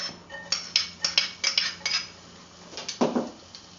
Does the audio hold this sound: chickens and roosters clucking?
no